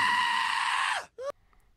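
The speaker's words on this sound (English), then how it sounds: "Ren does a reused scream" A reused cartoon scream from Ren and Stimpy, a loud sustained shriek that cuts off after about a second, followed by a brief rising squeal and then quiet.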